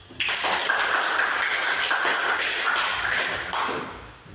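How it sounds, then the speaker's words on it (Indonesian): A classroom group claps together at the end of a group presentation, a dense burst of applause lasting about four seconds before tapering off, with no voices. "mari kita sama-sama aplaus"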